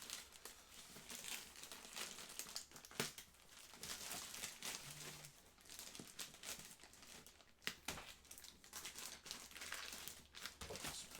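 A bag being packed with items for shipping, its plastic crinkling and rustling steadily for about eleven seconds, with a few sharper crackles and no talk.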